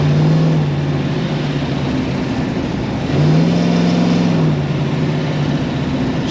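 A 1969 Dodge Charger 440 R/T restomod drives with a steady, loud low engine drone that swells briefly as it pulls harder midway through, heard alone with no talking.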